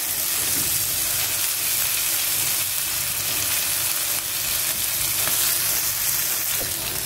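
Steady, loud frying hiss of a puri potato masala in a pan as mashed potato goes into the sautéed spices, a dense, continuous sizzle throughout with no talking.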